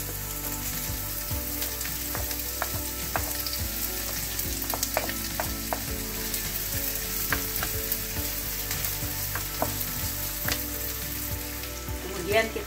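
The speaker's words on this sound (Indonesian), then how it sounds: "Kita tumis dulu bawang merahnya." Shallots sizzle steadily in hot oil for a chicken offal pepes dish, a dense continuous frying hiss with scattered crackles and pops and occasional stirring scrapes, close and constant throughout.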